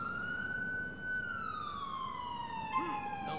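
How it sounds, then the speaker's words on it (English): A police car siren in GTA 4 wails close and loud as one long rising-and-falling tone that slowly drops in pitch, over a low rumble of background traffic. "Oh my god, that siren!"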